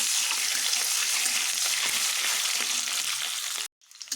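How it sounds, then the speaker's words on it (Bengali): Eggs rubbed with salt and turmeric fry in hot oil in a kadai, a loud, steady, close sizzle that cuts out abruptly near the end before a faint crackle returns. "কড়াতে তেল গরম হয়ে গেছে এবং ডিমে নুন হলুদ মেখে ডিমগুলো ভেজে নেব"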